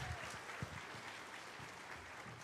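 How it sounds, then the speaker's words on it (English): Sustained applause from a convention stage audience at TennoCon 2024, a dense patter of clapping hands at a steady level, fairly faint, without speech. "Let's keep the applause going"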